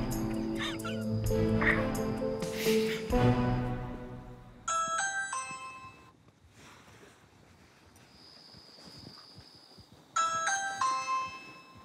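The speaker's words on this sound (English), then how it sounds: "we're gonna ring the doorbell" A doorbell at a house rings during a pizza delivery, with bright chime tones sounding in two separate rings after some earlier background noise.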